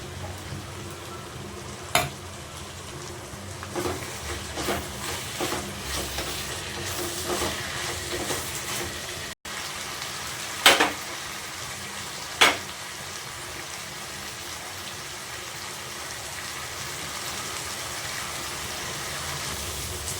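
Chopped tomatoes frying in a pan for a brown chickpea masala, a steady soft sizzle running throughout with a few sharp clinks of a spoon against the pan.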